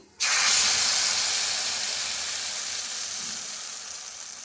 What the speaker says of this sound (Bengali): এবার সর্ষে পোস্ত কাঁচা লঙ্কা বাটাটা আমি দিয়ে দিচ্ছি।